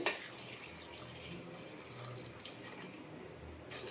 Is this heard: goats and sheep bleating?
no